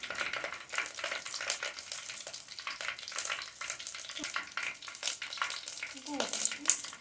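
Mustard seeds sputtering in hot oil in a pan on a high flame, with scattered crackling pops and a soft sizzle, and a voice talking faintly in the background.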